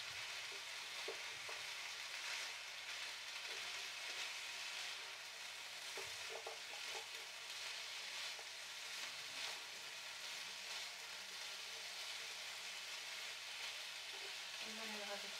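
Pumpkin penne with nutmeg being stirred in a hot pan, a steady close sizzle with soft scraping strokes running throughout.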